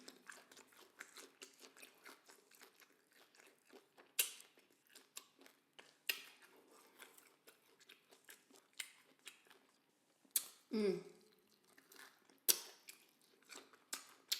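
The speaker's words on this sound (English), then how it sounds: "You guys hear that crunch?" Crunchy fried chicken served with sweet and sour sauce is chewed close to the mic, with a run of small crisp crackles and several louder bites, no talking.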